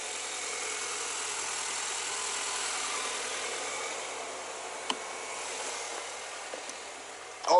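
A steady, smooth engine hum from a cheap Mini Cooper idles continuously with a broad even whir, broken only by a faint click and a brief knock near the end.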